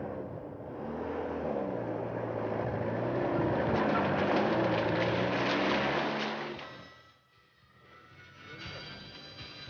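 A 4-wheel drive jeep grinding along a dusty, rough mountain road between Manali and Leh, its engine droning loud and close before fading away, then a faint return of rumble.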